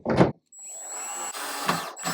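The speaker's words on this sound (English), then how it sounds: "So you get your letter P screw, and you start screwing them all in" Screws being driven into MCombo 6056 flat-pack furniture panels with a powered driver, a steady whirring run of about a second and a half between short louder bursts, close and alone with no talk.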